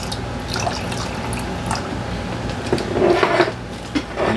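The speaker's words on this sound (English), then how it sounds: "A little bit of white distill vinegar." White distilled vinegar is poured into a homemade Buffalo wing sauce, a soft, close trickle of liquid lasting a few seconds.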